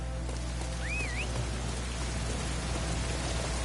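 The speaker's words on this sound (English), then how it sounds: "It's raining." Steady, dense rainfall hisses evenly throughout, with a brief whistling chirp early on and a low hum underneath, in Dynasty Warriors 9.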